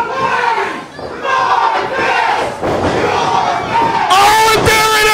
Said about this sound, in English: Listen to this crowd, Chris.